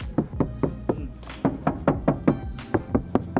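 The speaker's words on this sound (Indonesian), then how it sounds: "Jadi kalau kita ketok-ketok," Knuckles knocking on a motor scooter body panel lined with a sound-damping layer, a series of about a dozen dull, close taps in an uneven rhythm, each short and muffled.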